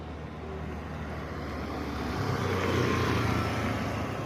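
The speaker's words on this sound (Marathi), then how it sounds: "हे बघा, आता बघू शकता तुम्ही एक गाडी येते." A vehicle approaches on a road strewn with loose gravel, its engine and tyre rumble swelling steadily from moderate to loud as it draws nearer, with broadband road noise and no speech.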